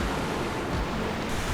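River water flowing beside a hiking trail to Colchuck Lake, a dense, even rushing roar, close and continuous through the whole moment, with no voices.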